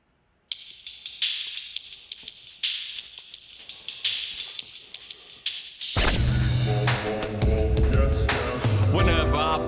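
A hip-hop track starts with sparse tapping beats, then kicks in loud and full with bass and layered instrumentation.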